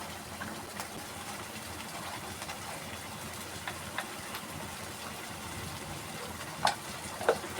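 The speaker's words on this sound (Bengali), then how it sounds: "দিয়ে মশলাটা কষাতে থাকবো।" Spice masala of cumin, chili and turmeric powder sizzles while being sautéed in a pan, a steady soft frying hiss under a low hum, broken near the end by a couple of sharp scrapes or clinks.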